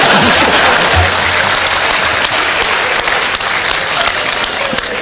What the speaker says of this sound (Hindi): 2-3 लोग ताली बजा रहे हैं